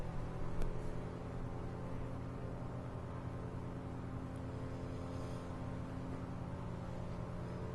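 A Piper Arrow's piston engine runs up to full power on the runway in the Prepar3D flight sim, giving a steady, loud, droning hum with strong tonal harmonics that holds constant throughout.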